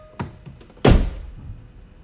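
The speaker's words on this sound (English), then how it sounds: "If I open the door" A car door shuts with a light click followed by a solid, heavy thunk, brief and close.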